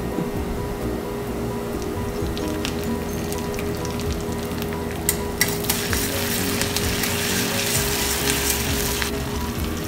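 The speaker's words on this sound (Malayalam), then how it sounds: "ഇപ്പം നമ്മുടെ ചെറിയ ഉള്ളിയൊക്കെ നന്നായിട്ട് മൂത്ത് വന്നിട്ടുണ്ടെങ്കിൽ അതിലേക്ക് കറിവേപ്പില ചേർക്കുക." Shallots and curry leaves fry in a pan, a steady close sizzle with light crackling that swells into brighter popping partway through, with no voices.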